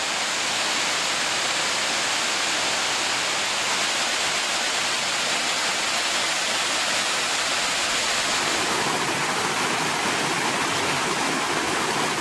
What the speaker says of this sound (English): you'll come to the incredible Big Mertens Falls